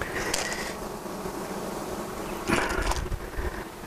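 Grey honeybees swarm around an open hive while frames are being handled, making a steady, dense buzzing close by that continues the whole time, with louder swells as bees pass near. No one speaks.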